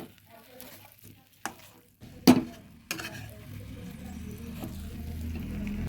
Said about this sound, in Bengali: এবার দিয়ে দেব কিছুটা ঘি ভালোভাবে মিশিয়ে নেব ভালোভাবে মিশিয়ে নিচ্ছি